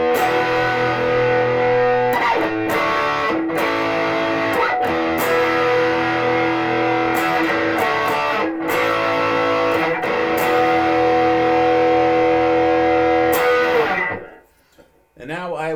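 A heavily distorted electric guitar plays loud rock chords and riffs through a Gamma 25 amp on its rock setting, with brief pauses between phrases before ringing out and cutting off.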